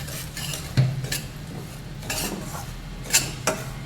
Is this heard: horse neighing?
no